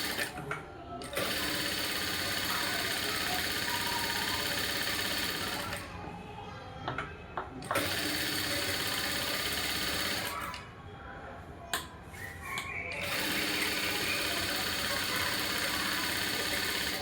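A sewing machine stitches around the outline of a blouse piece, running in long, loud, steady bursts with short pauses between them, while a person talks over it.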